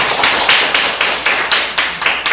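A small audience at a rural care-service business briefing claps in a regular, rhythmic beat, with sharp periodic accents repeating roughly every quarter second, close and fairly loud.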